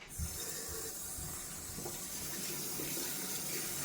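Tap water runs steadily into a sink as a shaving brush is rinsed of leftover lather after a cold wet shave, a close continuous hiss and splash with no talking.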